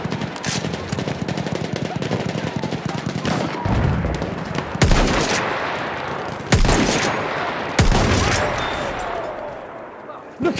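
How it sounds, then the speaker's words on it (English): Bursts of rapid machine gun fire rattle through a video game battle, with dense overlapping shots and several sharp loud blasts cutting through continuous combat noise. "Look out, machine gun!"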